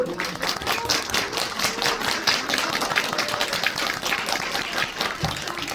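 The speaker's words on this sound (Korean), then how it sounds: "좀 저희 박수 한 번만 크게" A small crowd at a film screening guest event claps steadily and fairly loudly, a dense patter of many hands with no voices over it.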